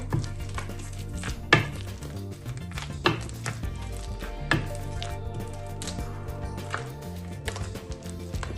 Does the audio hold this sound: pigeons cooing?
no